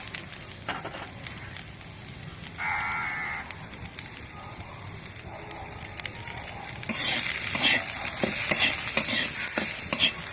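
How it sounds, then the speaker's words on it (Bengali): A vegetable chop mixture with peas and salt is stirred in a frying pan. A steady sizzle runs under irregular spoon scrapes, and the sound grows louder and busier in the last few seconds. No one speaks. "লবণ দিয়ে খুব ভালোভাবে নেড়ে চেড়ে নিলাম"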